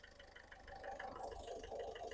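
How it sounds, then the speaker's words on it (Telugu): A 2011 Ford Figo diesel engine idling, a faint, steady low rumble with a soft regular pulse that swells slightly partway through, with no voices. "ఇంజన్ బీటింగ్ సైలెంట్ ఉంది"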